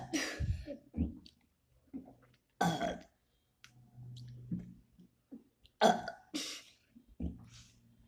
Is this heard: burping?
yes